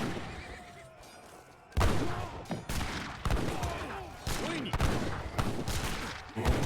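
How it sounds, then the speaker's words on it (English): Massed rifle fire from an Age of Empires 3 battle, with repeated crackling volleys and sharp gunshot bursts in irregular clusters, horses whinnying amid the clash and game sounds layered underneath. "Good number of rifle riders just take a volley there."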